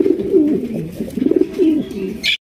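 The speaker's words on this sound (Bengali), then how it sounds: "টপ কোয়ালিটির এক জোড়া লাইট কালারের আফসান গ্রিজের রেসার কবুতর" A top-quality pair of light-coloured Afsan grizzle racer pigeons coo loudly and up close in steady, warbling rolling phrases that end with a short rustle.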